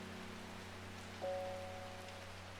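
Steady rain patters down in the Strange Horticulture video game, a soft, even hiss that runs unbroken through the whole stretch, with a faint low ambient hum beneath and a brief tonal chime near the middle.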